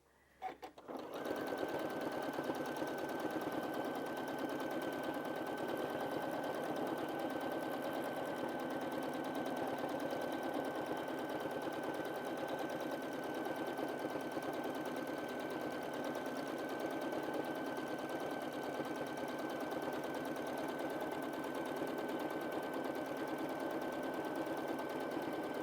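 A sewing machine stitching steadily during free-motion quilting of a Dresden Snowflake block, a fast continuous whirring hum with a fine rapid needle rhythm, close and unbroken.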